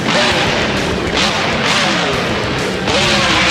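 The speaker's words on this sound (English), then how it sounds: "he crashes into the crush cars, and that is going to end his run" In the BeamNG Drive driving game, a monster truck smashes into a stack of crush cars, producing several loud, heavy crashing bursts over a constant roaring engine din.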